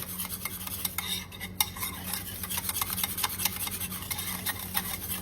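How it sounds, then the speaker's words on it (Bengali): Roasted ground spices and salt are stirred into yogurt for dahi vada, a spoon ticking and scraping rapidly against the bowl in a quick, steady rhythm, close and distinct over a low hum. "এবার খুব ভালো করে এটা দইয়ের সাথে মশলাগুলো মিশিয়ে নেব।"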